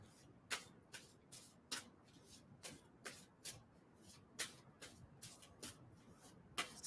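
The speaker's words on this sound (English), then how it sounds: "And tell me when I should stop shuffling on that." Tarot cards being shuffled by hand, a quiet series of short crisp riffles and slaps repeating at an uneven pace, close and faint with no talking.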